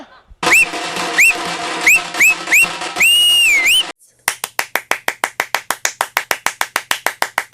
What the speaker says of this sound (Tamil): நீங்க வந்து அது விசில் அடிக்க முடியுமா அந்த பீட்டுக்கு ஏத்த மாதிரி?